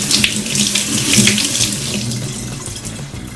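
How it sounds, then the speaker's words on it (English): A tap runs steadily, water splashing hard into a sink while makeup brushes are rinsed, close and loud, with no talking. "And then run it under some water."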